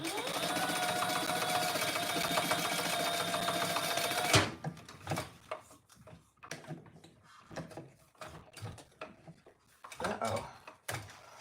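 A sewing machine stitches fabric in a steady, loud mechanical whir for about four seconds, then stops, followed by scattered clicks, fabric handling and brief bursts of activity.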